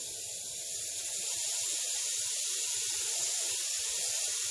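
AS-186 airbrush spraying basecoat onto a miniature, a steady close, soft airy hiss that continues without a break, with faint low knocks underneath.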